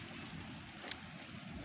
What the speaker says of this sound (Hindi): ये देखो बारिश आ रही है, धपाधप आ रही है, धड़ाधड़ आ रही है